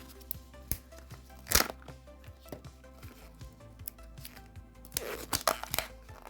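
Kinder Joy egg packaging being unwrapped, giving soft crinkly rustles and a few sharper tearing bursts near the start and end, close and fairly quiet, with no voice.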